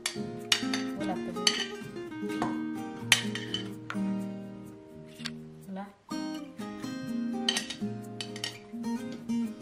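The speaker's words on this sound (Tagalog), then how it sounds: "ngayon, ipaghahalo natin ang mga ingredients" Ingredients for a Romanian beef salad are stirred together in a bowl, with repeated clinks and scrapes of a utensil against the dish in an uneven rhythm, close by.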